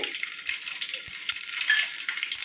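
Mustard seeds and cumin sizzle in about five spoons of hot oil for a raw mango dish, a steady bright crackling hiss with small pops, close and continuous without talk.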